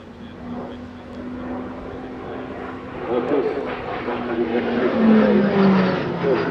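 An F-35B fighter jet roars during the Farnborough International Airshow 2022 flying display, its sound swelling louder midway while a commentator talks over it.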